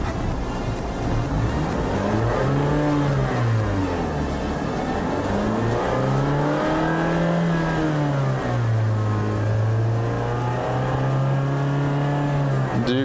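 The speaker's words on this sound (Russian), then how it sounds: "Двигатель работает отлично" A 2013 Mazda CX-5 Sport engine runs and revs repeatedly, the pitch rising and falling in several steady up-and-down sweeps, loud and close with no talk.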